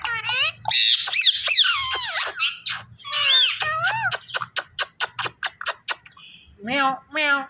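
A pet parrot mimics a cat's meow, giving a run of high, squeaky, pitch-bending calls close to the mic, then a quick series of short chirps and a last burst of meow-like squawks.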